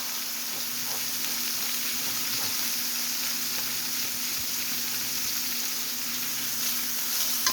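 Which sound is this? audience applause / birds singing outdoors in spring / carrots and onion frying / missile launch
carrots and onion frying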